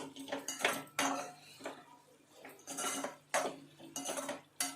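Spoon clinks and scrapes against a pot while vegetable curry with garam masala and coriander is stirred, in several broad bursts with quiet gaps between them.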